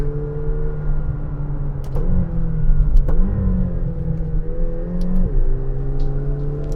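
A Lamborghini engine revs hard and accelerates out of a corner, its pitch rising then briefly dropping several times as it pulls away, loud and close with no voices.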